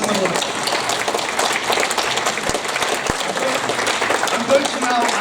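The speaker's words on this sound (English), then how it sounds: "Give them another clap." An audience at a talk on local practice applauds, a dense sustained clapping from a roomful of people that keeps an even loudness throughout, with a couple of sharp individual claps standing out.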